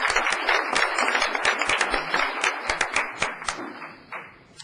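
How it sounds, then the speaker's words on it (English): Audience at a Ferndale city council meeting applauding to honor long-serving city employees, a steady burst of many hands clapping indoors that tapers off near the end. "let's give them a round of applause as well"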